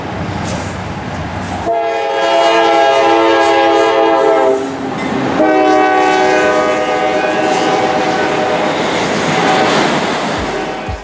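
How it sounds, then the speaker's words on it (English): A loud locomotive horn blasts in two long chords separated by a short gap, over the rumble of a passing train. "These horns need to be loud because trains are dangerous."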